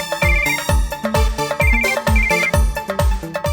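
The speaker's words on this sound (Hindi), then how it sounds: "समीर फोन कर रहा है, प्लीज उठा लेना।" A mobile phone ringtone plays for an incoming call, a loud, bright, repeating electronic melody with a rhythmic beat.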